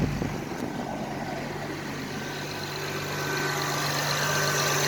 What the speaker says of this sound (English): Engine nice and quiet.